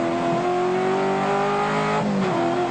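A V8 touring car races at Amaroo Park in the 1987 Australian Touring Car Championship, its steady loud engine note holding high revs with a slight pitch shift near the end and no voices.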